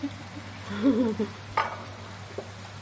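Meat grilling on a Thai mookata pan gives a steady close sizzle, with a few brief clinks and stirring sounds rising above it.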